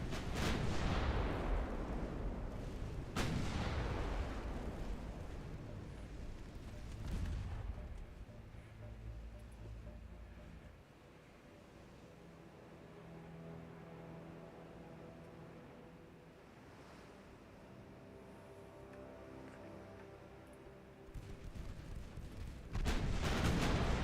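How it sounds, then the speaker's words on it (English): Naval main guns firing at a light cruiser in Ultimate Admiral Dreadnoughts, heavy booming blasts at the start and again near the end, with a long low rumble and a faint engine drone in between. "Let's have the main guns fire at the light cruiser."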